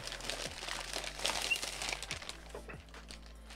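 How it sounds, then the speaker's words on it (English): A plastic bag around a Steam Deck 512GB handheld gaming console crinkles and rustles close by during an unboxing, in a steady stretch of soft crackling with a few light thumps and no talking. "So we've got the deck here in a plastic bag"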